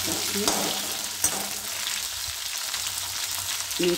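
Sweet corn and tinda curry being stirred in a hot pan, a continuous sizzle with scraping knocks of the spoon at intervals.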